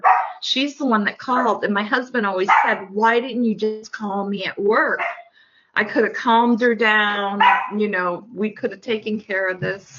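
A pet dog named Molly, a scruffy dog, barks in short yips at home while someone talks steadily over it, the barks mostly buried beneath her voice.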